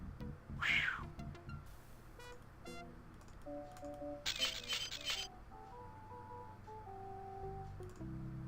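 A cartoon cat yowls once loudly in the Day of the Tentacle adventure game, then gives way to a string of bright electronic beeps and tonal game sound effects.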